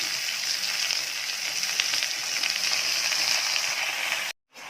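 Manathakkali greens and onions sauté in a pan with a steady, close frying sizzle that holds evenly throughout, then cuts out briefly near the end.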